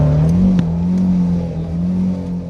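Car engine fitted with twin Weber carburettors revs in a steady, loud drone close by, with a brief blip near the start and a sustained throaty hum throughout; no voices.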